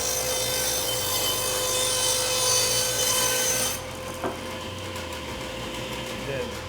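A bench-mounted woodworking saw blade spins up loud and steady with a whirring hum, abruptly dropping to a quieter run partway through, with a brief knock near the end.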